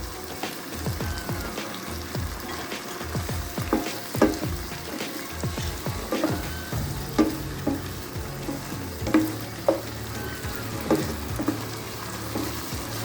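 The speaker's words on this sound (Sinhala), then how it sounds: "දැන් තමයි අපි අර මස් එකේ තම්බල ඉතුරු වුණ ග්‍රේවි ටික මේකට දාලා හොඳින් කලවම්" Leftover boiled meat gravy is stirred into a sizzling pan for a peppered chicken steak, giving a loud bubbling fry with repeated scraping strokes and clattering knocks of the spoon, close by.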